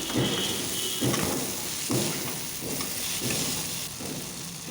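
Soybean chunks and pre-fried potatoes are sautéed together in a pan. A continuous sizzle swells in regular bursts as the mixture is stirred about once a second, close and fairly loud, with no talking.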